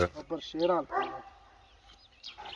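A few sharp dog barks up close in quick succession, followed by quieter background noise and faint voices.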